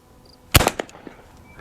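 A single sharp rifle shot from a Burgess Light Carbine, fired at a target, cracks loudly near the start and is followed by a short rattling echo that fades over about a second.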